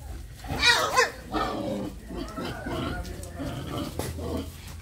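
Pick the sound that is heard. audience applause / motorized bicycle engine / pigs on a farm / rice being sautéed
pigs on a farm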